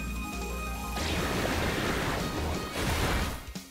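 A Muddy Water attack in the Pokemon Violet video game crashes in as a loud, surging wash of splashing water, like breaking surf, filling a few seconds before tapering off.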